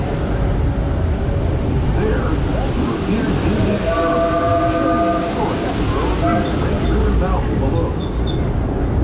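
A Disneyland Railroad train runs on its rails around the park, producing a loud continuous rumble with rhythmic clatter and a sustained metallic squeal from the wheels, close and alone throughout.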